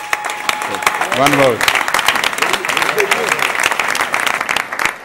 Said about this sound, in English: So just give an applause to them.